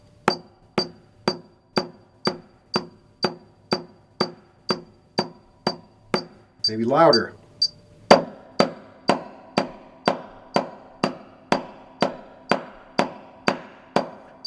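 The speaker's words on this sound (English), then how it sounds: "you're trying to get the same sound each time the stick hits the head" Evenly spaced double stroke roll on a drumhead, close and steady. A short spoken interjection interrupts midway, then the hits resume a little louder.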